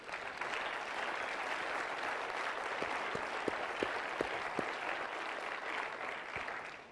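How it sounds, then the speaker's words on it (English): Applause from a lecture audience honoring faculty after a distinguished faculty lecture, a steady, moderately loud wash of clapping from a hall full of people, with a few sharp individual claps standing out toward the end. "So a round of applause for our gifted faculty."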